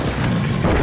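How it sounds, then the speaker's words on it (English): A gun exploding in the video game Lies Beneath: a dense, sustained booming rumble, loud and close, filling the whole brief moment without pause. "Oh, no, my gun is exploding."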